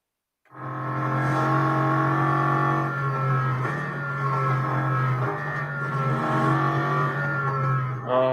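Racing car engine in Real Racing 3 accelerating hard, a loud, close, sustained high-pitched roar that climbs through gear changes with brief dips, alone without talk.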